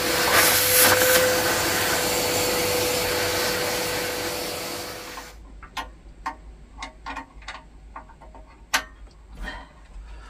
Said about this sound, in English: Oh, I think I better vacuum this out.